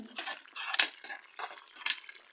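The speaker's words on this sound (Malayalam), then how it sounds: "ഉപ്പുണ്ടോ എന്ന് നോക്കാൻ വേണ്ടിയിട്ട് തുറന്നതാണ് നന്നായി ഇളക്കി കൊടുക്കാം" Potato masala curry being stirred in a pot, with a series of metallic clinks and scrapes of a utensil against the pot, close and fairly quiet, with no talking.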